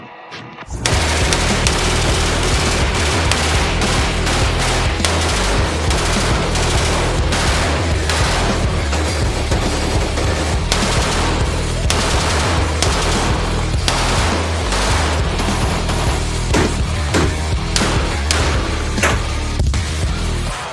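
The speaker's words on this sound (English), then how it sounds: "the Eastern Bloc package, which contained artillery used by the Soviet Union, because why wouldn't we? Привет, товарищи! It's time to shoot." Soviet Eastern Bloc guns fired at a shooting range in Miami, producing loud, dense, continuous gunfire with rapid overlapping shots and bursts for about twenty seconds.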